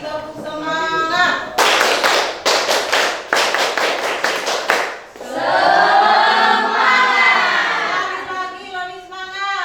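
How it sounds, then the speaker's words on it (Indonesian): A classroom group stands and performs the rhythmic 'tepuk semangat' spirit clap: sharp, loud bursts of synchronized hand claps in quick patterned groups, with a teacher's voice speaking before and after the clapping. "Kita tepuk semangat 2 kali, tepuk semangat."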